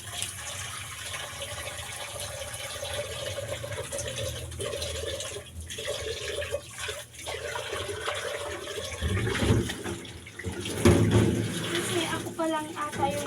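Water gushing and splashing while rinsing during house cleaning, a running pour that swells louder toward the end, with a person talking over it.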